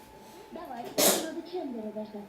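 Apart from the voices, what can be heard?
sneeze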